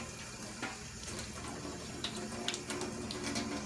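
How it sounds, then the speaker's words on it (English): Water runs steadily from a tap into a sink while an item is rinsed under the stream, a continuous close splashing hiss with small bursts as the flow is interrupted. "What I'm doing is I'm running this under the water, and I'm getting it out."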